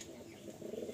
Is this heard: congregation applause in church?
no